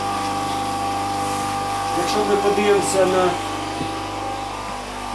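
An electric tile cutter's powerful motor runs at a steady, even hum with slight vibration, loud and continuous while someone talks over it.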